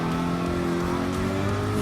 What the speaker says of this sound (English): Just hear the difference in the RPMs of the different cars